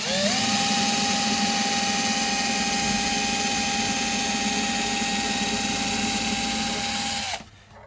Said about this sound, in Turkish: bu deliklerimizi delerken çok sabırlı, yavaş delmemiz gerekiyor